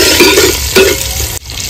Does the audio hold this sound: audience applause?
no